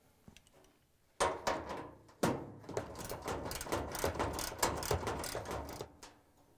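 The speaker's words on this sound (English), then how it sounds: "We're going to use a socket with a ratchet and a little extension." A socket ratchet with a small extension backs screws out of a Whirlpool/KitchenAid/Maytag washer top, producing a rapid run of close, dry metallic clicks after a few scattered knocks.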